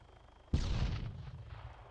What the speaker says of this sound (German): von hier hinten kam irgendwo Schüsse.